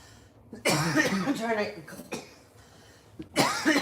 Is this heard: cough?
yes